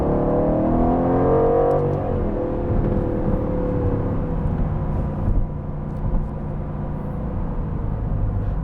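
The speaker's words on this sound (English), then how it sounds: "the car makes a rather nice noise. It has, of course, an active exhaust" Aston Martin Vantage sports car with an active exhaust, its engine note rising then settling into a steady, fairly loud drone with smooth whirring tones, no talking.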